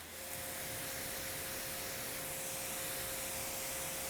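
A car coated with Adam's Graphene Ceramic Coating is rinsed with water, producing a soft, continuous hiss of spray that stays even and fairly faint throughout.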